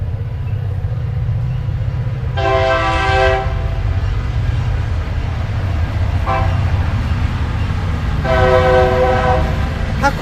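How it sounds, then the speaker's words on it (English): A train passing through a golf course sounds two long horn blasts over a steady low rumble of rolling wheels, loud and close, with a brief faint toot between the blasts. "The train goes through the golf course."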